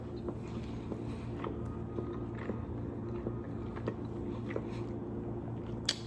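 Someone chewing a crunchy grilled cheese donut with a hard crust, close-up crunches and bites recurring irregularly against a quiet background.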